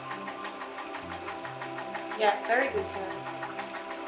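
A sewing machine stitching fabric for a skirt, its motor a steady, rapid mechanical whir and ticking that stays even under the whole stretch, while people speak briefly over it.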